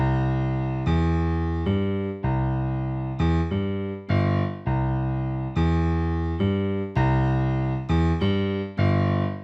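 A low, steady bass line on piano, notes changing every second or so in a simple repeating pattern of chord tones, played alone and fairly loud.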